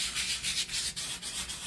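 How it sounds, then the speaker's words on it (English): Light, steady scrubbing with the fine side of an acrylic nail file worked over a surface, soft rasping strokes repeating in an even rhythm, close and quiet. "basically you want to just give it a light little sanding."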